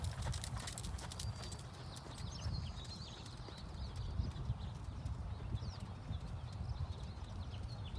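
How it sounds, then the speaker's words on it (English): A horse trots steadily around a riding arena, its hoofbeats an even, continuous clip-clop under steady low rumble, with faint birdsong in the background and no talk. "take your trot large all the way around and come back across the diagonal towards me."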